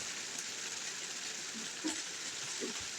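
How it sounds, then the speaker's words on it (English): Steady rain falling in Tillamook, Oregon, a constant soft hiss throughout with a few faint taps and drips standing out. "I apologize that it's raining again."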